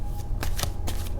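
A deck of tarot cards is shuffled for a reading, giving a few quick, crisp riffling bursts close up over a low background hum, no talking.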